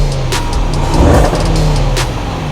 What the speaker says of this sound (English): I'm going to give it a couple revs so you guys at home can see exactly what it sounds like.